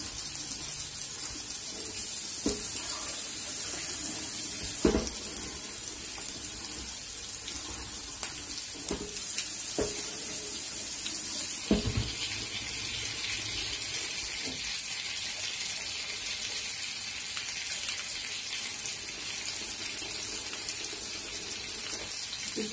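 Tap water runs steadily into a sink while rice is rinsed for karnıyarık with pilaf, a continuous hiss broken by occasional splashes and clinks, with no talking.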